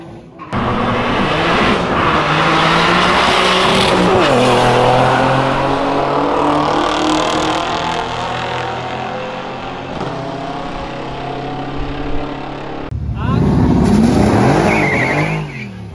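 A four-door BMW E36 revs hard and accelerates at a street race, its loud engine note rising and falling with some tire noise, then cuts out briefly before another loud, close burst near the end.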